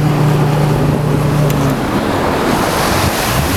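A motorboat engine on a dive boat at sea hums low and steady for under two seconds, then cuts out, leaving loud wind and rushing water noise throughout.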